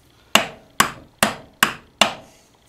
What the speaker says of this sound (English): Note I'm only hammering on the outside ring.